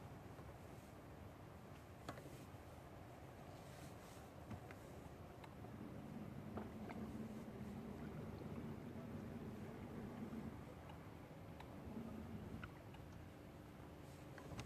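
A faint, distant boat motor drones low and steady across foggy open water on Lake Athens, with light wind noise and no talking.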